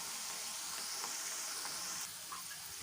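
Food for chicken dum biryani fries in hot oil, giving a steady, bright hiss and sizzle with a few faint pops, heard alone at moderate volume.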